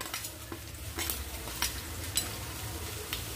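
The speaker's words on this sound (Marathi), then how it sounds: "आलं व लसूण ठेचून घालतेय, त्यांना थोडं भाजून घेऊया।" Crushed ginger and garlic roast in a pan with spices while being cooked into samosa filling, giving a steady soft sizzle broken by occasional scraping stir strokes, close and alone.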